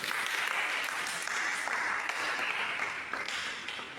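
Classroom applause from a group of students, a steady burst of clapping lasting a few seconds, moderately close and fading slightly toward the end, with no talk over it.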